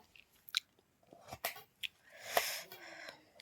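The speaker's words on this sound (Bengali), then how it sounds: "এখন মুড়ি খাবো" Close, crisp crunching bites of dry puffed rice, several irregular chews over a few seconds with quiet breathing between them.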